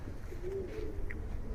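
Inside a pigeon loft, a soft single coo drifts up faintly from quiet ambient room noise, with the birds sounding calm and somewhat distant.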